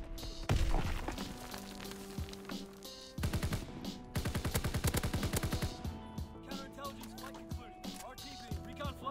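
Rapid automatic assault rifle bursts in Call of Duty WW2, loud and close, firing in dense volleys with sharp repeated cracks, a brief pause near three seconds, then another long sustained burst.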